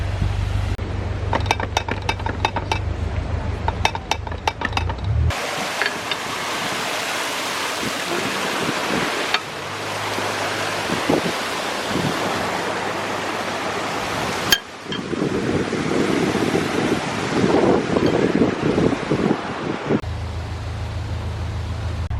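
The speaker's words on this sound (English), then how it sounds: "Right, let's let some water in" Loud rushing water roars continuously, a turbulent torrent pouring into a canal lock with a low rumbling underneath, shifting in intensity as it flows.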